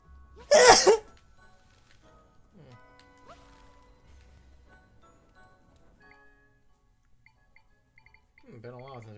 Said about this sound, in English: got to sneeze